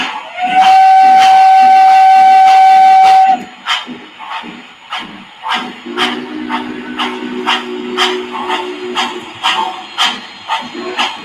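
A Milwaukee Road FEF steam locomotive sounds its shrill Banshee whistle in one long loud blast, followed by rapid rhythmic exhaust chuffs and a lower hissing tone as the engine works past.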